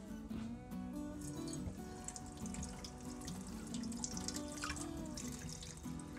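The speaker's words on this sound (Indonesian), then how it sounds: "Mau aku siram pakai air dingin dulu." Cold water runs from a tap over a moka pot in a steady, faint trickle and splash, continuous for several seconds with small drips and clinks against the metal.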